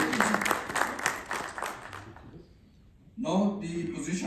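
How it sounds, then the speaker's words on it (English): An audience at a senior management course concluding ceremony applauds the participants, a loud burst of clapping that fades out, a brief lull, then a voice speaking over the room. "class need a big round of applause for this achieving such a good result"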